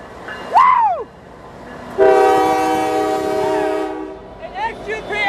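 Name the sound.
train horn of NS 9885 locomotive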